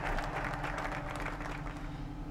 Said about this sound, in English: I like how these guys clap whenever a national focus is completed.